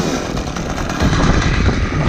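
A chainsaw roars loudly and steadily as it is lifted while cutting a tree high up, a dense, continuous buzz filling the short stretch.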